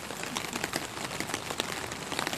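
Rain pattering on a transparent umbrella and nearby surfaces, a dense crackle of close drops with no talk.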